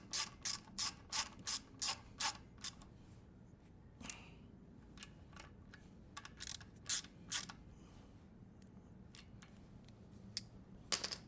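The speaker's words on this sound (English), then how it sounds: "Torque wrench is set for 10 pounds." A torque wrench set to 10 pounds ratchets while tightening oil pump bolts on a motorcycle engine: quick bursts of crisp, close clicking in rhythmic groups, with short pauses between strokes.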